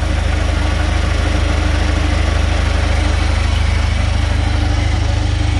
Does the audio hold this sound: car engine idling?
yes